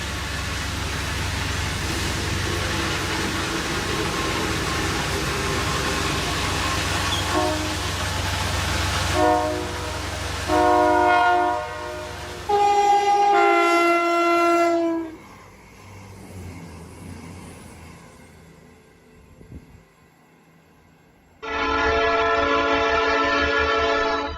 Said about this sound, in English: Sierra Northern Railway maintenance train laying ballast where a derailment previously occurred